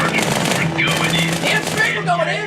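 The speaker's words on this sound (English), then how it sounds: "you'll have 2 SMGs at this point, 1 in each hand, and you will begin to tear into the grunts with your 2 SMGs" Rapid automatic gunfire from two SMGs fired at once in Halo 2, a loud dense rattle of close shots over continuous game noise, with a voice talking over it.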